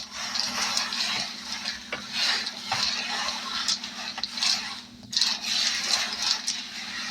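Paper envelopes being shuffled and mixed by hand, soft rustling and sliding with light taps, close and continuous over a faint steady hum.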